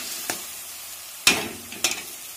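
Onions fry in a pan as spices are tossed in, a low steady sizzle broken by three sharp scraping stirs, close and without talk.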